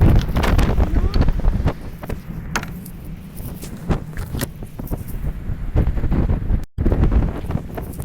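Strong wind buffets the microphone on top of a tower beside the Danish sea, a loud, gusty roar with repeated bursts and a brief dropout near the end.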